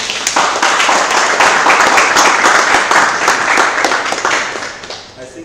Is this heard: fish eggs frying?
no